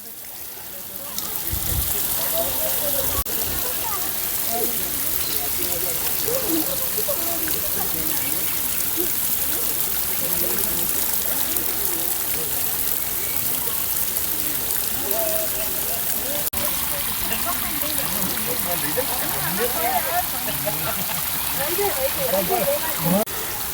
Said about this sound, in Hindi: और फाउंटेन यहाँ भी देखो आप, बीच में लायंस वगैरह, ऊपर बर्ड्स हैं और इधर एलिफेंट भी अपनी सूंड से पानी फेंक रहे हैं।